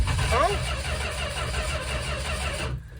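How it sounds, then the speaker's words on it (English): A 1967 Dodge Coronet engine cranks steadily on a stronger battery with a low, pulsing churn, running for close to three seconds before it cuts off abruptly without starting. "Went and grabbed a less bad battery. Certainly cranks better."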